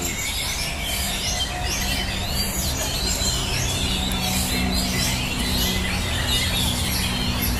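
Songbirds chirp and trill continuously at a bird singing contest at the hanging stands, several birds overlapping in a busy, steady outdoor chorus with no talk.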